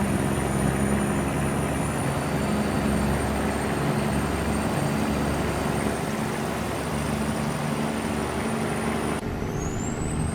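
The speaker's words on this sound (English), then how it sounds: "I forgot there's biplanes flying around." A biplane drones overhead in a truck simulator game, a steady engine hum with a high whine that holds for several seconds, loud and continuous beneath road noise, pitch shifting at the very end.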